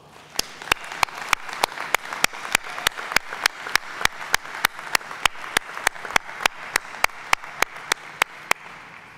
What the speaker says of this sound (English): You all deserve another round of applause.